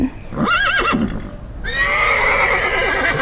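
A horse neighs loudly, a quavering whinny followed by a longer, rough, drawn-out call.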